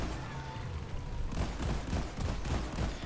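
Explosions and gunfire in the video game Deep Rock Galactic, a dense rumbling barrage of booms and rapid shots that builds and grows busier partway through, loud and continuous without talk.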